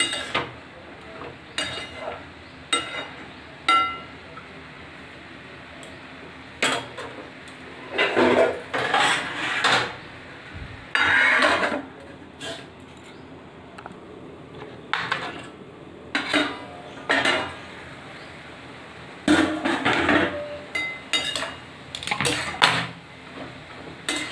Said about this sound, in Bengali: এবার একটু ঢাকা দিয়ে দেবো।